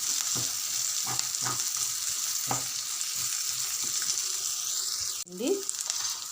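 Ginger-garlic paste with curry leaves frying and being stirred in a pan for bitter gourd gravy, a steady close sizzle broken by repeated spoon scrapes and taps, with a brief sharper clatter near the end.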